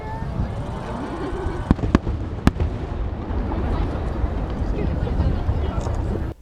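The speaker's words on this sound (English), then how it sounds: "this festival had a lot of fireworks" Fireworks at a summer festival in Tokyo, a few sharp cracks early followed by a continuous low rumbling crowd-filled din, heard from a distance.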